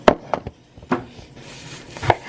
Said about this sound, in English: Now we're gonna chop up tomato.